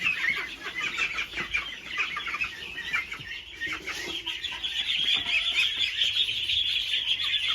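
Ducks raised in an enclosed farm pen give a steady chorus of overlapping calls and clucks, moderately close and continuous with no talk over them.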